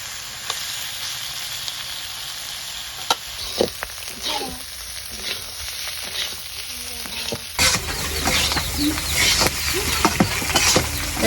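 Bitter gourd and potato bhaji frying in oil on a village clay stove, a continuous crackling sizzle with irregular scrapes and clatters of stirring that grow louder and busier toward the end.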